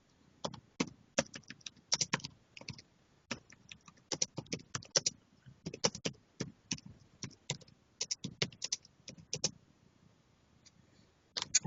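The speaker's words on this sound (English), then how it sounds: "I always love the click clackety of keys" Computer keyboard keys click and clack in quick irregular bursts of typing, crisp and close, with short pauses between runs and no talking.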